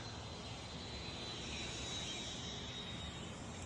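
A Freewing F-5 radio-controlled model jet with an XFly inrunner fan flies a gear-down pass, a faint, steady rushing hiss with a thin high whine sustained throughout.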